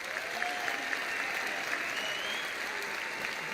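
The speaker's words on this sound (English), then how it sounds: "Please applaud and honor our graduates this evening." An audience applauds graduates at the Collin College commencement ceremony in May 2019, a steady, full wash of clapping from a large crowd sustained throughout.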